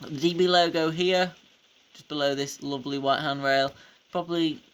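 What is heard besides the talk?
No everyday noise stands out behind the speech.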